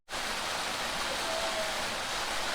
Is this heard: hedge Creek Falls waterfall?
yes